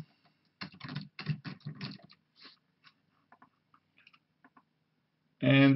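Computer keyboard typing a task name into a scan-configuration screen: a quick cluster of close key clicks, then sparse single taps, ending with a louder burst of clatter.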